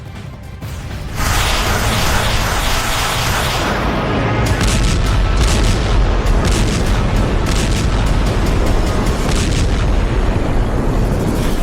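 Heavy, continuous rumbling booms from Russian air strikes on Kyiv, a dense roar of explosions and blasts that swells after the first second and stays loud throughout, with no talking.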